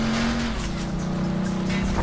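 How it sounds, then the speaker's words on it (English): A car in the video game Frontlines: Fuel of War starts up and drives off, with a steady loud engine hum and a rising engine tone over two seconds, alone without talk. "Takes a second to kick off this car."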